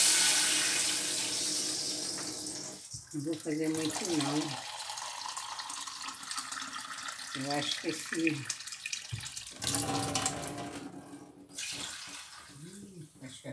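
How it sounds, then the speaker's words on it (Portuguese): Water is poured from a tap into a cooking pot in a home kitchen, after garlic has been sautéed. A steady running hiss goes on throughout, close by, while someone talks over it at intervals. "Agora eu vou botar a água."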